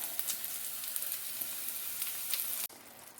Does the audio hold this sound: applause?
no